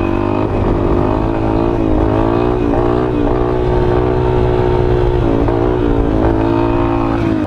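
A Honda Twister motorcycle engine revs hard and close for a wheelie in second gear, the pitch climbing and dipping in repeated surges as the throttle is worked, loud and continuous.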